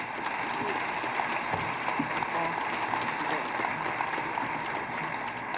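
An audience claps at a ceremony marking completion of Denver International Airport's Great Hall project, a dense, even wash of many hands applauding steadily throughout, fairly loud and sustained with a few sharper claps standing out.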